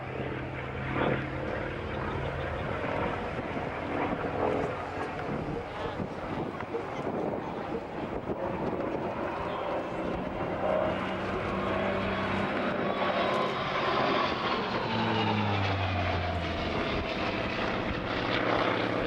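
A piston-engine aircraft with an air-cooled Wasp Major engine drones loudly overhead at Dunsfold, its deep propeller roar shifting in pitch as it passes, with wind buffeting the microphone.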